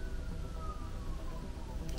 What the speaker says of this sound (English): Do you hear that siren?